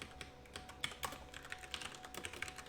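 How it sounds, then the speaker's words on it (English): Typing on a computer keyboard during a livestream about coding 2D experiments with Raylib: quiet, irregular key clicks in quick bursts, fairly close, with no voice over them. "Keep typing"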